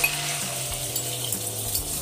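An egg frying in oil in a pan: a continuous close hiss and sizzle at a steady level with a low hum beneath and no voices.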